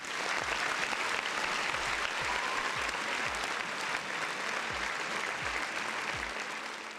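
A crowd gives a sustained round of dense, even clapping that runs steadily throughout, faint and somewhat distant, with a few low thumps underneath.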